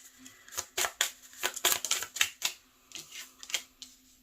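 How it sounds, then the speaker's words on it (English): Tarot cards being shuffled and pulled for a reading, a run of crisp, rapid papery flicks and snaps at close range with short pauses between bursts, no voices. "Give me a few minutes to pull some cards."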